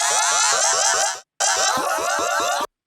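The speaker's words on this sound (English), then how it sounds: "apply this frequency shifting in parallel so that there's a sort of wibbly wobbly" A backing vocal phrase from a dub remix of a rock and roll track, run through frequency shifting in parallel, gives a wobbly, pulsing, warbling tone. Two loud bursts are split by a short silence, with no talk.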